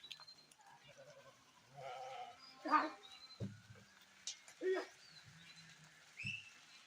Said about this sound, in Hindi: तो अभी बकरियां भेड़ सब इकट्ठे जा रही हैं।